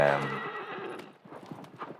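A horse in the video game Shadow of the Colossus whinnies loudly, then its hooves clop in a steady galloping rhythm while a voice talks over the game sound.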